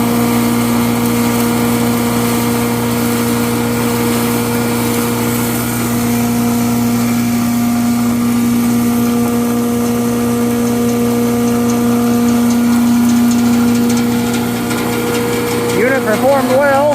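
Hammer mill grinding salt crystals and limestone aggregate fed slowly from a 5-gallon bucket, a steady loud motor drone with a strong hum that holds constant throughout, with a brief change in pitch near the end.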